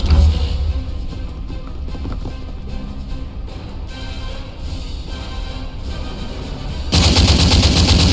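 Heavy gunfire from the video game Phantom Doctrine rattles in dense, continuous bursts, loud and close, rising sharply in the last second.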